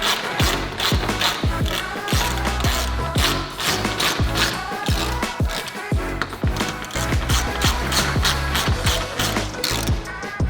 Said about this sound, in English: you're gonna take your 1/4 Allen, you're gonna come up from the bottom, and you're gonna start tightening it down